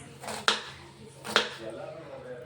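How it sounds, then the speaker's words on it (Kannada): Onions being chopped with a knife for baby corn Manchurian, two sharp, close knife strikes on a cutting board about a second apart, with low room sound and faint voice traces around them. "ಈ ರೀತಿಯಲ್ಲಿ ಈರುಳ್ಳಿಯನ್ನು ಹೆಚ್ಕೊಳ್ಳಿ"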